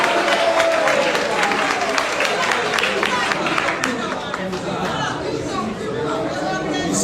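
Loud clapping and cheering from a crowd at an APC party political event, a dense roar of applause with chatter running through it and no single voice standing out.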